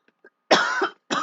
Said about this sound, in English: I still have a little bit of that cough